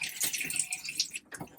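Water runs through an RV sink faucet line during de-winterizing of a Forest River Wolf Pup travel trailer, a steady close hiss and splash with a brief break near the end.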